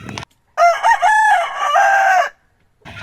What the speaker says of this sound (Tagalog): tilaok pa ng manok ah